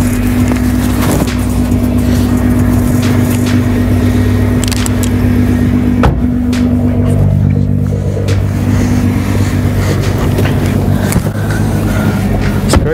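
Car engine running steadily with low rumble through a drive, occasional bumps and wind noise, people chatting faintly in the cabin.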